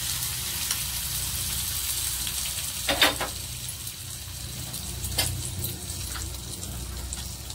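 A spice tempering for South Indian curd rice sizzles and crackles steadily in hot oil, with a couple of sharper pops standing out. No voices are heard.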